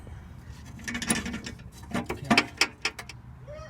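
A hand ratchet clicks in quick irregular bursts while tightening exhaust manifold bolts on a Jeep Wrangler TJ in a garage, the close metallic ticks scattered over low background noise, with one brief spoken word.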